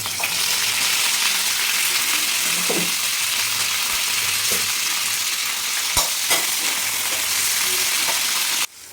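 Chopped onions with cumin seeds fry in a pan, making a loud, steady sizzle with occasional spoon scrapes and stirring knocks, and no talking.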